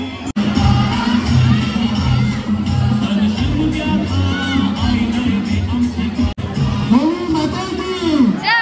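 Large Holi crowd celebrating in the street below, a steady roar of shouting, cheering and whooping voices with pulsing music underneath, heard from above and filling the whole stretch with nearby talk over it.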